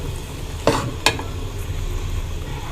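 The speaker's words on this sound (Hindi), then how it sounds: "और इसको अगेन मैं अच्छी तरह से भून लूँगी" Chana dal halwa roasting in a pan while being stirred: two distinct scrapes of the spoon against the pan over a steady low sizzle, close and moderately loud.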